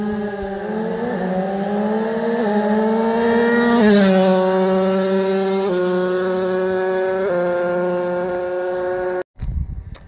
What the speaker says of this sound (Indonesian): Kita nak tengok starting daripada drag motorbike Indonesia